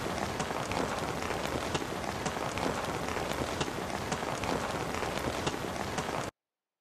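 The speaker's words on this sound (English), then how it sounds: "It was the background on some drama or something like that where there was some rain falling" Light rain falling steadily as a TV drama background atmosphere, a dense continuous patter of drops with occasional sharper taps, close and even throughout, no voices.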